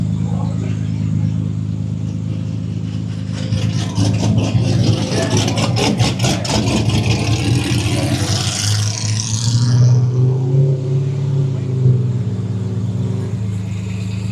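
Drag racing cars rev their engines nearby at a Rockingham, NC street car event, a steady loud throaty rumble with rising revs, under crowd noise and voices.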